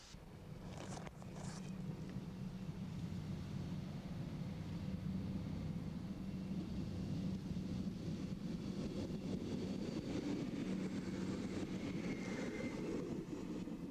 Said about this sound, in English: But first, she must wait for a northbound diesel express.